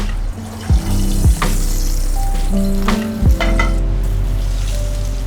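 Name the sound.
coral trout fillet frying skin-side in pan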